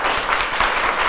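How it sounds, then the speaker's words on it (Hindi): Classroom applause for students during a healthy-habits quiz game, a steady wash of clapping that fills the whole second with no break. "एक ताली हो जाए"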